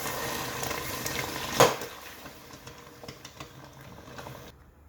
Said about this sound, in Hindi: चमचा चलाते रहेंगे।